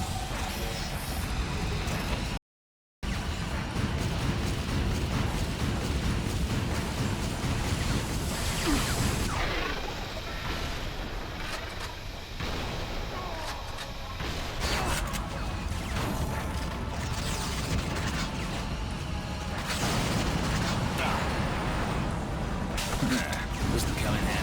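Missile barrage explosions pound in the video game Vanquish, dense crashing blasts and whooshes running continuously for over twenty seconds, loud and close, with a short dropout early on.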